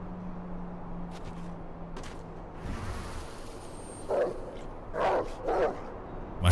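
Dog barking in Werewolf: The Apocalypse – Earthblood, a few short barks in the last couple of seconds over a steady low game hum and ambient noise.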